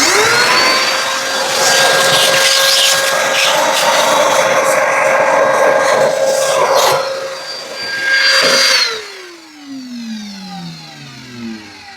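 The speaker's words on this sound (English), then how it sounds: "I just use a cheap piping hoover from Screwfix" A cheap piping hoover from Screwfix runs loud and steady with a high whine, cutting off near the end and winding down in a falling tone, used during a Sprinter campervan seat swivel base install.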